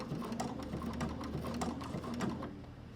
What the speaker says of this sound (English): do a couple stitches, a couple back stitches, a couple forward